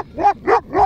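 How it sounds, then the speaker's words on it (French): A dog in the Swiss mountains barks three times in steady succession, loud and close, each bark a sharp bow-wow with no talk over it. "Il y a ce chien qui nous aboie dessus depuis un moment là"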